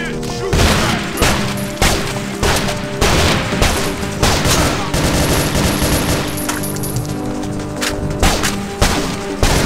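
Half-Life: Heart of Evil combat with a grenade launcher firing and blasts going off, a loud, dense run of rapid shots and thudding explosions.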